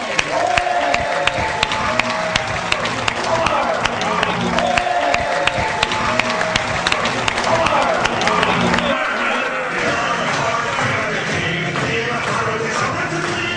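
A comedy show crowd applauds and cheers as the comedian walks onto the stage, loud sustained clapping with whoops that keeps going throughout and eases slightly near the end.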